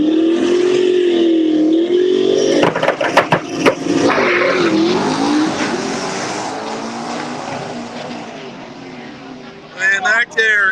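Stick-shift drag race cars hold a rising engine drone at the line, then launch down the track in a loud, rough burst of revs that fades as they pull away, with an announcer talking over it.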